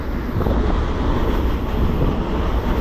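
Tutari Express passenger train racing along at over 100 between Sindhudurg and Kankavli, heard from inside as a steady, loud, continuous rumble and roar with wind buffeting, no distinct pauses.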